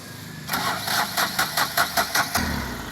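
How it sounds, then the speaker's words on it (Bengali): A 2020 Dost Plus nine-seat vehicle's engine cranks with a rapid run of rhythmic starter pulses for about two seconds, then catches and settles into a low, steady idle, heard up close with no talking. "দেখতে পাচ্ছেন গাড়িটা স্টার্ট দিয়েও আপনাদের দেখাবো"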